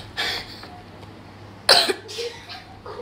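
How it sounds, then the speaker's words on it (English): A person coughs nearby, a couple of short harsh bursts with a throat-clearing quality, set against a quiet room with a faint steady hum. "He coughed."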